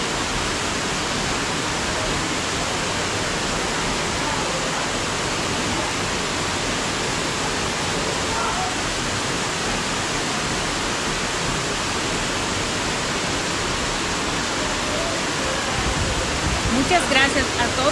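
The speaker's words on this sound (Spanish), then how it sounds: "Esta agua va cayendo del medio de la montaña." Water pours down from the middle of a mountain near Cañada Fresca, Sajoma, in the Dominican Republic, a loud, unbroken waterfall roar filling the whole stretch, close and constant.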